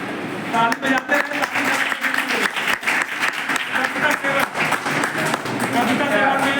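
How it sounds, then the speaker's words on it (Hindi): Audience at an inter-college sword fencing prize distribution ceremony applauding, with steady dense clapping that fills the whole stretch and a crowd murmur underneath. "ताली बजाते हैं।"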